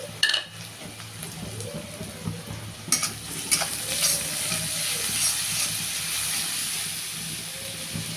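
Crushed garlic sizzles in hot oil with lightly fried onion in a pan for prawn masala, a steady frying hiss broken by the scraping clatter of a stirring spoon, with no talk.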